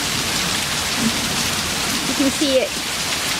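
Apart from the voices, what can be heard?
heavy rain falling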